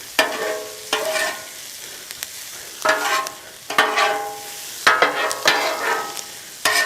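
Food sizzles and crackles on a hot Blackstone 28-inch griddle, with bursts of louder frying as it's stirred or turned, close by and no talking.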